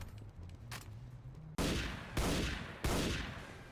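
Three loud, sharp blasts of weapon fire in Team Fortress 2 Classic ring out about half a second apart, each with a short decaying tail, after a stretch of quieter game ambience.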